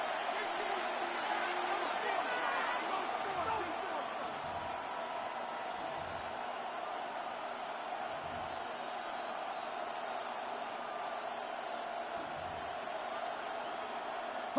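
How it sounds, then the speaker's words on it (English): A stadium crowd in a Madden 26 NFL football game roars in a steady, broad wash of cheering, sustained for the whole stretch under a faint background hum. "the crowd getting into it as we come up on a big third down"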